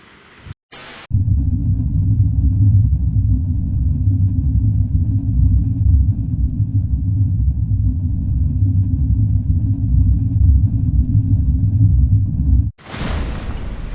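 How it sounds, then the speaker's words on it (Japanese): A steady, low engine and traffic rumble by Midori Ohashi bridge near Kojiya Dam, running unbroken for about twelve seconds after a short quiet start, with no voices. "エンジンの音とかね、車の音とか聞こえるんでね。"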